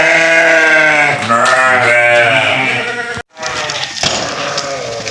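Goats on a farm in Dammam, Saudi Arabia, giving loud, close, drawn-out bleats one after another, with further calls and background farm noise.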